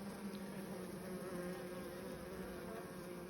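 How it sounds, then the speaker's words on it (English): Buckfast bees buzz around their hive in a steady, dense hum that never lets up, faint and even throughout, with no speech. "That's the Buckfast bees there."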